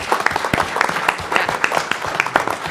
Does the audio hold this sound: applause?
yes